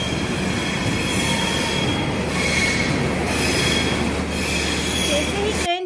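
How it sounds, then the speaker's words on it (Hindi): A passenger train rolls steadily along the rails, a loud continuous rumble with a low mechanical drone and squealing wheels, heard from on board and sustained without a break. "अब ट्रेन चल चुकी है"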